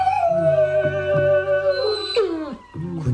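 A dog named Jackie, just beaten, yelps and howls in long, wavering cries that slide downward, loud and close. A few sharp whimpers break up the cries, and no one speaks.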